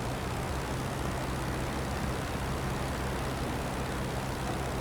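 World War I fighter planes, including FE-2B biplanes, drone steadily in the Rise of Flight game, a continuous low engine roar with no breaks or voices across the clip.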